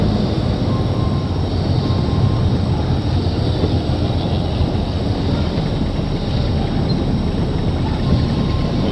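Heavy trucks rolling past on a road in Cubatão, a loud steady rumble of engines and tyre roar with no clear gaps between passing vehicles.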